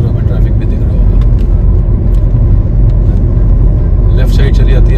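Heavy road traffic from an industrial area, a loud, continuous rumble of passing vehicles that fills the whole stretch, with a voice talking over it.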